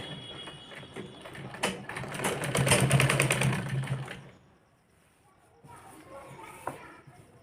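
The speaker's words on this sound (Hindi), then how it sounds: "यहाँ पे पूरी पार सिलाई लगा लेंगे। यहाँ पे 2-3 बार सिलाई लगाएंगे।" Sewing machine running in a steady stitching burst while sewing a double frill on a stylish umbrella-cut top, loud for a few seconds then stopping, with a softer second run near the end.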